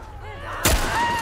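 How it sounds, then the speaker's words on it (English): A single sharp gunshot in The Last of Us, a loud, sudden bang with a short booming tail, heard over a steady background of tonal game ambience. "Shoot her again."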